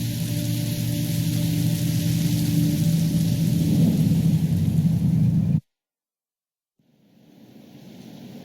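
Heavy rain with rolling thunder in the video game Minecraft: Story Mode, a loud continuous downpour that cuts abruptly to silence, then slowly fades back in as softer rain.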